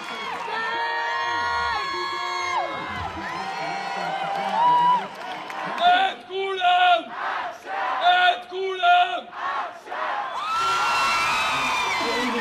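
Thousands of people gather in Tel Aviv to celebrate the return of hostages, their loud roaring, whooping and cheering swelling and ebbing in waves, with chanting bursts through the middle and a sustained roar at the end.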